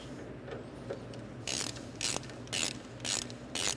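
Ratchet clicking at close range as bolts are worked free from an engine mount on a 2001 Toyota Solara, five bursts of rapid pawl clicks in steady rhythm with short pauses between them, no talk.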